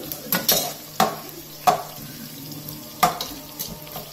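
Onions frying in a pan, with a low sizzle under scattered clattering stirs and knocks, close and fairly quiet.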